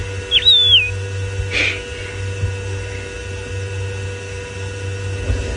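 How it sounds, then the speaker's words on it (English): A wild bird gives a single short whistled chirp near the start during an early-morning safari drive, over a steady low vehicle hum with a faint rustle following. "It was chirping merrily away."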